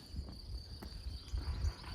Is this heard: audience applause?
no